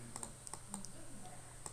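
Shift key presses and mouse clicks on a computer make light, sparse taps and clicks at close range, quiet against a low background hum.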